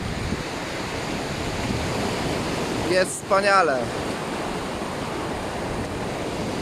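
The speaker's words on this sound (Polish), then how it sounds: "Z szumu morza, pięknej pogody." Sea waves break on the beach at Jastarnia in a steady, loud, washing roar with some wind, and a brief spoken line is heard partway through.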